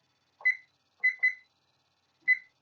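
A kitchen timer is switched on and gives four short, sharp electronic beeps, with two close together in the middle, clear and near in an otherwise quiet room.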